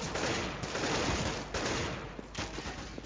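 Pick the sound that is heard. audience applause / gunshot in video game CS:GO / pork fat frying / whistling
gunshot in video game CS:GO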